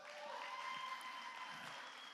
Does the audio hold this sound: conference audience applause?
yes